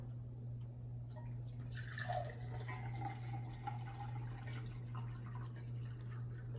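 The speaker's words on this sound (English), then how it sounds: "We start by filling up the glasses with some water." Water poured into drinking glasses for a homemade instrument, a faint continuous trickle and splash over a steady low hum, quiet and close.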